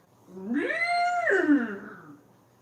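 A man imitates a cow with his voice, a single long rising-and-falling moo lasting about two seconds, close and clear in a quiet room.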